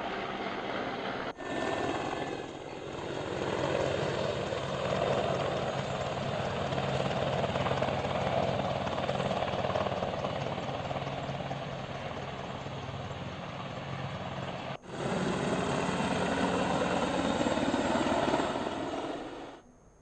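Air Force Apache helicopter flying, a loud continuous rotor and engine drone that holds steady throughout, with two brief breaks where the sound cuts.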